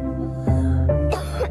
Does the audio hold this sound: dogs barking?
no